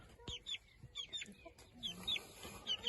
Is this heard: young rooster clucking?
yes